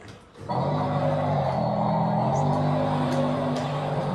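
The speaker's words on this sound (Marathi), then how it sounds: "चालायला लागलाय आता गाडी" A car engine drones steadily and loudly from about half a second on, holding a constant hum while the vehicle is driven along, with no talk over it.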